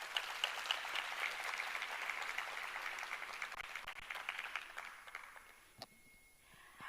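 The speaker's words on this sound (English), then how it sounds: "Can we give them a round of applause?" An audience at a matric awards ceremony applauds a school choir with dense, even clapping that holds steady, then thins out and fades toward the end.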